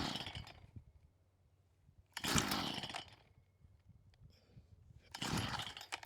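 A strimmer engine with the choke on is pull-started three times, each pull giving a loud, brief rasping roar up close that dies away, with quiet gaps between tries.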